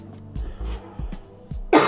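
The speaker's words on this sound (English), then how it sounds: "Pardon me for the cough." A person coughs several times in short bursts, close to the microphone, during a laptop disassembly, spaced about half a second apart, ending in a sharper, louder cough.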